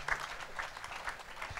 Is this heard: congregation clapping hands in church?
yes